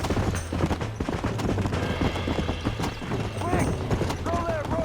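Horse hooves clip-clop in Red Dead Redemption, a rhythmic trotting beat close by, mixed with game sounds and voices talking over it.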